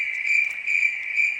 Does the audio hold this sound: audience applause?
no